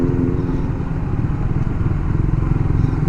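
A motorcycle engine runs steadily close by on a roadside at an accident scene, a continuous mid-pitched drone with rattly clatter holding level for about three seconds without voices.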